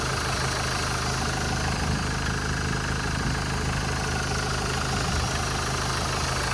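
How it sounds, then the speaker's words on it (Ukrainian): A 2010 Renault Trafic van with the 2.0-litre 115 hp diesel engine idling steadily, a continuous low rumble with a constant hum, close by and alone without any talk. "Так автомобіль працює дуже класно."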